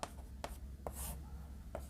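A pen scratches across paper during a maths solution, giving a few short, faint strokes at a quiet, close distance.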